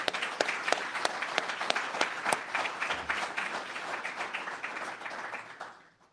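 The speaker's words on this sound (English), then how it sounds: "And for all that, you all deserve a round of applause." A crowd applauds graduates of a veterans education program cohort at a Central Valley celebration: steady, dense clapping with a few sharper claps early on, holding for about five seconds before fading out at the end.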